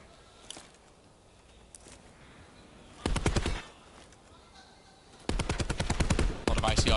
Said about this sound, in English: A lot of ICR gunfire going down,